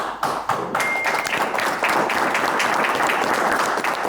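Studio audience applause on a face-reading game show, a dense, close burst of clapping that begins after a couple of sharp thumps and holds steady to the end.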